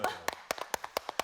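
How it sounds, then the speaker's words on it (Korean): Clapping in a TV studio, about eight sharp claps in a quick, slightly uneven rhythm from a few people, close and moderately loud, with a voice briefly heard at the start. "이럴 때 박수"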